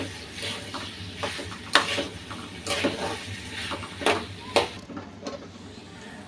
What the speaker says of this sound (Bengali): ভেন্ডিটা দিয়ে দিলাম। এটা এখন নেড়ে দিই একটু উল্টা পাল্টাইয়া।